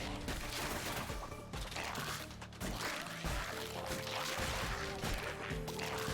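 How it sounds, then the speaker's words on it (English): Dense, continuous video game gunfire, a heavy barrage of shots and crashes running through the whole stretch at steady loudness, with no clear pauses. "Oh my god, just the sheer amount of bullets."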